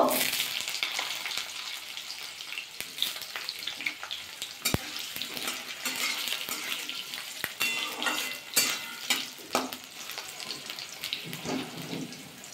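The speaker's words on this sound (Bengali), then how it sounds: "আলুগুলো হালকা একটু ভাজা করে নেব" Potatoes fry lightly in hot mustard oil with dried chillies and five-spice in a pan. The sizzle is steady and close, with repeated sharp clicks and scrapes of stirring against the pan.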